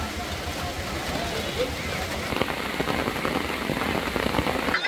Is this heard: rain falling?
yes